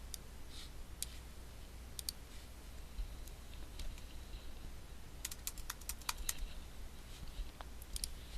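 Light, scattered keystrokes tap on a computer keyboard during title entry, with quick bursts of clicks and short pauses over a faint steady room hum.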